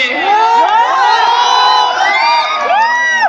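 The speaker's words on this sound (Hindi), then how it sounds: "एक बार ताली" Rally crowd at Jairam Mahto's political speech in Giridih, Jharkhand, roars with loud cheering, whoops and high shouts, a dense, sustained wall of voices close by.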